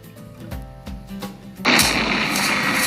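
A few dull booming thuds, followed by a sudden loud explosive roar that carries on as a dense, rumbling wash of noise.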